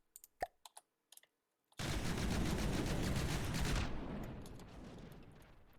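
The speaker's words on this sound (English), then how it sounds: "We need to test the guns." Weapons test-fired in the video game Robocraft Rumble: a few sharp clicks, then a dense two-second burst of loud rapid gunfire that tails off into a fading roar.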